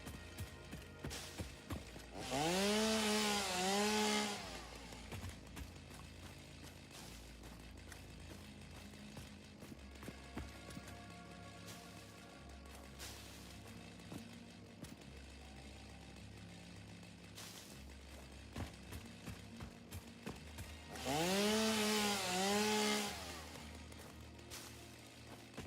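A chainsaw in the video game Satisfactory cutting near a rock, with two loud buzzing revving bursts at the start and again near the end, separated by quieter game noise.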